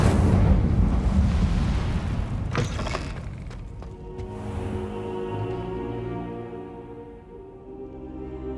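Incendio fire spell cast in Hogwarts Legacy on PS5: a loud, rumbling blast with a sharp crack near three seconds, then a lingering tonal magical hum fading out.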